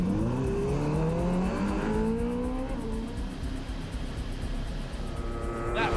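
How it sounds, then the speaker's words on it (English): Racing motorcycles at the North West 200 road race scream past close by at high speed, the engine note falling in pitch as they pass, with a second machine following. "That was a massive slipstream there from Michael Dunlop."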